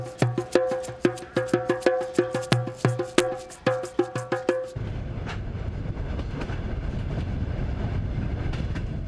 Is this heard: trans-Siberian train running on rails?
yes